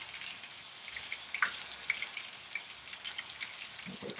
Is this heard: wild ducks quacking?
no